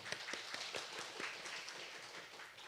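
A church congregation at a Sunday worship service applauds to welcome a visiting missionary to Russia, producing a soft, steady patter of many hands clapping at a distance, faint but continuous throughout.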